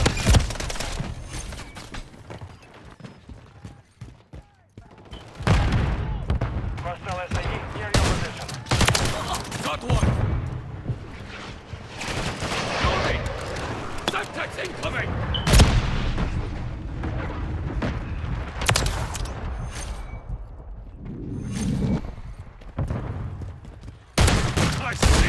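Heavy gunfire and explosions from the video game Call of Duty, with dense bursts of shots, booms and artillery-like blasts rolling through a loud, chaotic battle, with voices calling out over the din.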